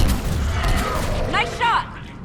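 Gunfire crackles through a Mass Effect 3 firefight from Legendary Edition, a dense, busy clatter of shots and impacts with voices and battle effects layered over it.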